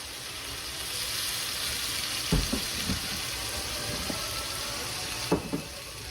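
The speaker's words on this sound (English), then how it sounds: "Let that simmer a bit." Port wine and brandy simmer in a pan with chicken hearts, giving a steady soft sizzle and bubbling hiss throughout, broken by a few brief clinks and knocks of utensils.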